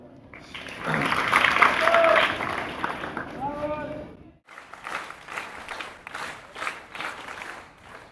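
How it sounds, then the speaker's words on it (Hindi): Applause at a school inauguration ceremony, a crowd clapping steadily for a few seconds before fading, followed by lighter scattered claps under background noise. "ताली बजा।"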